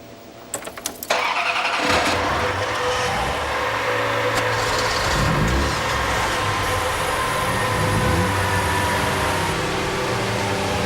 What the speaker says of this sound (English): everybody start your engines.